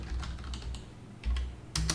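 Computer keyboard keys click in quick, uneven bursts, close and clear, with no talking.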